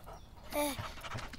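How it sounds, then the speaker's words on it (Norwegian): A dog pants in a short burst of quick, breathy huffs and a faint whine, close by, with a voice speaking over it in a children's cartoon. "Se da! En hund!"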